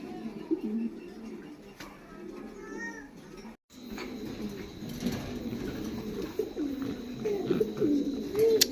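Pigeons of a giant breed, a pair of females kept in a loft, cooing in soft low repeated calls close by, with faint background rustling and a brief gap midway.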